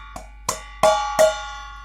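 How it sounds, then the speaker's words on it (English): Found object struck and left free to ring, four distinct metallic hits with bright, sustained gong-like tones, the last two louder and ringing longer. "more of a gong sound"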